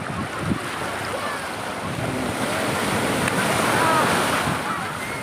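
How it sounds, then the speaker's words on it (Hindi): Sea waves wash up and draw back along a beach in a continuous loud surge, swelling toward the middle, with strong wind buffeting the microphone and faint voices nearby. "समंदर का पानी जब वापस जाता है"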